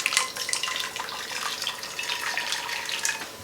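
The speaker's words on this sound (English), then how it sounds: "So I've already boiled the water in the kettle to speed up the process of boiling. Put in the pan." Boiled water from a kettle pours steadily into a pan with a continuous splashing, hissing wash, fairly close and without talking.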